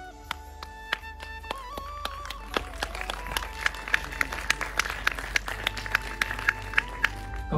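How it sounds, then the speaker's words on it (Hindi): Clapping rises at an Uttarakhandi awards ceremony as a man named Avinash is called up, with loud, regular claps over music and a crowd in the background. "एक बार जोरदार तालियां अविनाश।"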